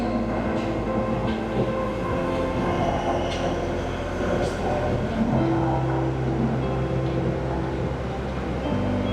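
At a Bangkok railway station, a train rumbles steadily and close by, a continuous low mechanical roar with clanks and a few squeals, heavy throughout.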